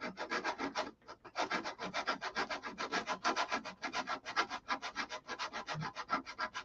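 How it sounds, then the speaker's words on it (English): Wood is sanded by hand with the end of a Polywog sanding tool in a tight area of a SIG Magnum model, a fast rhythmic rasping of short back-and-forth strokes, close and steady. "I also use the end of the polywog as a sanding implement for tight areas like that."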